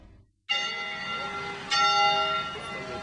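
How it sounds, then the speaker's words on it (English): Church bells ring for Easter in Iraq, a dense metallic peal that starts abruptly and swells with a fresh strike partway through, resonating loudly with overlapping tones. "Church bell sounds can be heard everywhere today in celebration of Jesus Christ's resurrection"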